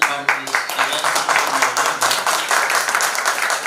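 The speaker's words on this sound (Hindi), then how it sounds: "तो एक जोरदार ताली हो जाए" An audience at a Hindi drama event in Kashmir claps loudly for the chief guests, a dense, steady wash of applause lasting a few seconds, with voices mixed into the crowd noise.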